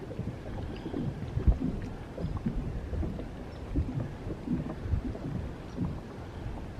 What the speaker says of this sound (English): Though it's raining on us